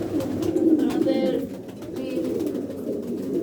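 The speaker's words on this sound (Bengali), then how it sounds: "গাইস কবুতরটি ছেড়ে দিলাম" A female pigeon let go in a loft, with soft cooing and bird calls layered under continuous low murmuring and background voices, steady and close throughout.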